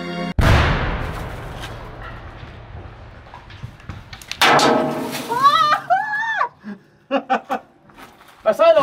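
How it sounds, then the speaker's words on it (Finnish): A 2 kg dynamite charge detonates inside a concrete cube with one loud, sharp blast near the start, its broadband rumble decaying over seconds; a second burst of noise follows and excited voices and laughter come in afterward. "Tää on ensimmäinen meidän betonikuution räjäytys ja lähetään."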